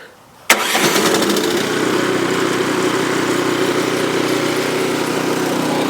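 An Ariens snow blower engine, choke partly open, catches with a sharp burst after a short quiet moment, then settles into a steady, loud, close running roar.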